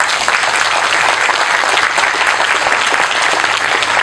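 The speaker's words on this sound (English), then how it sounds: "Let's give him a round of applause." Audience applause at a building groundbreaking ceremony, a dense, steady wash of many hands clapping close and loud throughout, with no pause.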